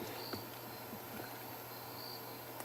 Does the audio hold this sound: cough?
no